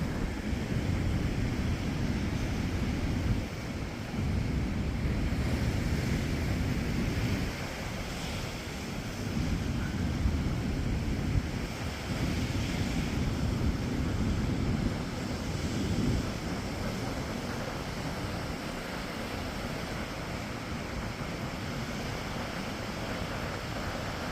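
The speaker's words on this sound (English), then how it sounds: "Floating in the shallow waters there in the gully. Wind playing around with the nose of the vessel." Steady wind and lapping shallow water around the bow of a floating F200 boat in a gully, a continuous broad rush with gentle surging swells and no talk.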